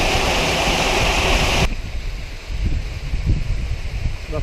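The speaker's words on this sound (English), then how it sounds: "just down there. Waterfall." A waterfall at Gordale Scar near Malham in the Yorkshire Dales gives a loud, steady broadband rush that fills the first second and a half, then drops to a softer, continuous wash of falling water.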